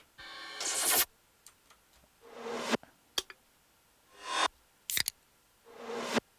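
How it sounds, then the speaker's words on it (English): Several reversed snare hits swell up and cut off sharply, spaced across a sparse beat with small clicky percussion between them. "So this is with the reverse snares coming in."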